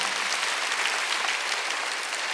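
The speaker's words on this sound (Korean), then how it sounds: "세게 쳐요 박수요" A church congregation at Sunday worship claps hard and steadily, a dense wall of loud applause filling the hall for the whole stretch without a break.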